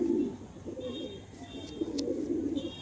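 Breeding pigeons, including a Kalanka male, coo in low, rolling bursts close by, with a few faint chirps above them.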